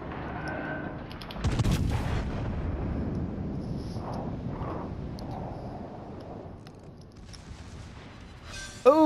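Naval gunfire in a warship battle video game: a heavy booming salvo with a long rumbling tail, followed by fainter distant thuds and a brief sharp burst at the end.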